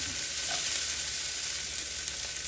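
Food frying in a pan, a steady close hiss of sizzling oil that holds evenly throughout, with faint stirring underneath.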